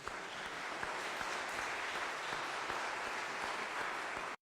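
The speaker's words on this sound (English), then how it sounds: "Let's give them another round of applause" Steady applause from an audience at a benefit concert in St. John's Lutheran church, a dense wash of clapping heard at moderate distance, continuing evenly until it cuts off.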